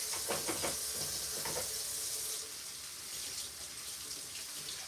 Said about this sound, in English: So before I serve her, I'm gonna wash this real quick.